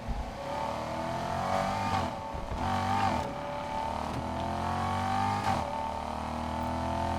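A Mercedes-AMG C63 engine in the Need for Speed Heat racing game revs steadily and loudly, its tone rising and falling through several throttle blips over a constant engine drone, with no talk.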